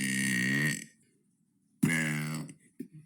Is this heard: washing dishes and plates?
no